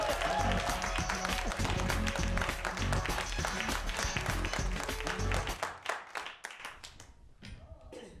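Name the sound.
audience applause for a comedian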